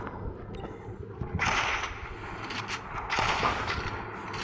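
Several sharp gunshots crack in quick bursts over a steady low rumble in the video game Free Fire, including AWM sniper rifle fire, sounding like game gunfire rather than a real outdoor scene.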